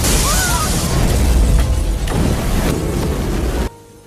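A loud, booming bomb blast at a bank with a long rumbling tail, followed by an abrupt cut to near silence at the end.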